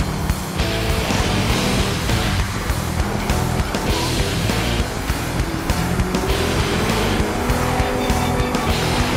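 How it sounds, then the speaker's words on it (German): Audi race cars roar up a mountain track at the Arosa ClassicCar event, engines loud and continuous with revving and tire squeal as they pass close by. "Vor jedem Rennlauf brausen die vom Car-Sponsor Audi zur Verfügung gestellten Boliden die"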